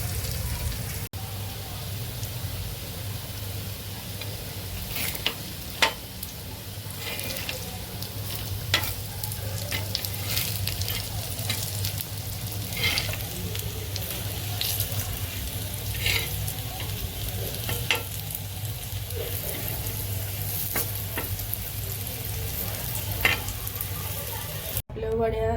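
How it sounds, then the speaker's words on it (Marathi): Colocasia leaf rolls (alu vadi) shallow-fry in a little oil, giving a steady close sizzle and crackle throughout with occasional scraping stirs and light clinks. "थोड्या तेलामध्ये फ्राय करून घ्यायच्या कुरकुरीत."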